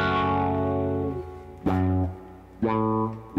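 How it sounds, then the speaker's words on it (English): Electric guitar run through an envelope filter, in the style of Jerry Garcia on the Grateful Dead's Estimated Prophet: three sustained, sweeping notes, each struck attack opening up bright then decaying, played alone with no talking. "But with the effect, the envelope filter,"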